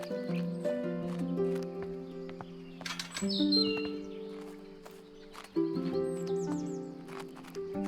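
A bird in the Botany Manor game chirps in short high tweets over soft sustained musical tones, the calls bright and close in a few scattered bursts.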